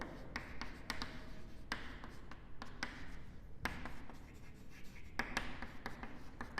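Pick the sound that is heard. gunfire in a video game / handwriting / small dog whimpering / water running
handwriting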